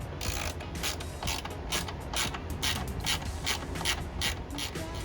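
A ratcheting T40 Torx bit from a Jeep toolkit tightens a bolt on a Jeep, producing a quick series of close, crisp clicking ratchet strokes over a low background rumble.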